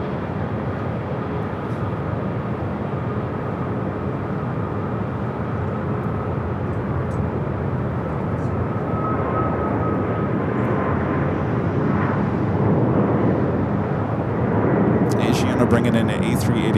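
A jet airliner roaring on takeoff at Los Angeles International Airport, a loud continuous engine rumble that builds slowly, with a commentator talking over it.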